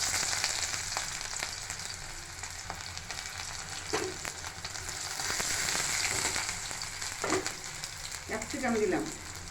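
Onions sizzling in hot oil in a pan, a steady close frying hiss with a few scraping stirs near the end, for a dish with capsicum, potato, cumin and peanuts.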